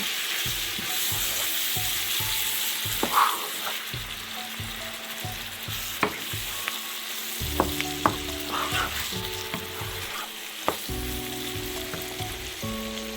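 Chicken tikka masala spice mix stirred through a sizzling pan for a kebab recipe, with a continuous frying crackle punctuated by repeated spoon knocks and scrapes against the pan.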